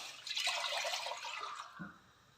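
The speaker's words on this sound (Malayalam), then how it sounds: "ഇതിലേക്ക് കുറച്ച് വെള്ളം ഒഴിച്ച് കൊടുക്കാം." Water is poured into a pot set on the stove for semiya upma, giving a soft hissing splash for about a second and a half that fades out. Faint, close and with no talk.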